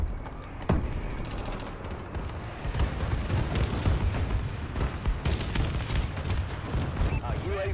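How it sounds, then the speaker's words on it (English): Repeated heavy explosions from a bombing run rumble through a video game battlefield, a dense, continuous barrage of booms and crackling blasts with a sharp hit near the start, loud and sustained throughout. "Bombing run clearing the way"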